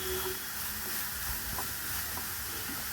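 Chopped onions sautéing with half a teaspoon of salt in a pan for a chicken roast give a steady soft sizzle and hiss, with faint stirring scrapes, close and continuous without talk.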